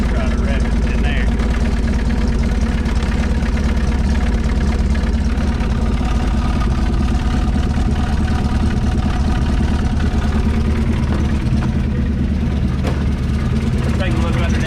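A 1970 Mustang Mach 1 engine, smoky and shedding debris, runs on its first start in 40 years with a loud, steady low rumble and no clear distinct revs. The sound is close and even, with people talking over it.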